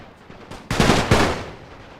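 Machine gun and rifle fire crackle in a World War I game battle, a burst of dense rapid shots breaking out after a quiet start, loud and close, then trailing off.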